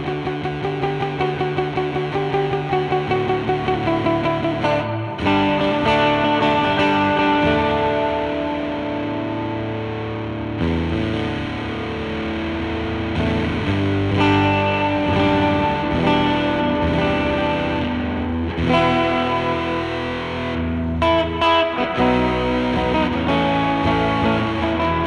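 An electric guitar through a Submarine Pickups SubSix hexaphonic pickup and effects plays continuous, heavily processed distorted chords and riffs, loud and dense, with a few brief breaks between phrases.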